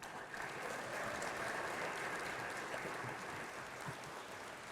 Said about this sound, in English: A nice round of applause for Gerhard Kiesling.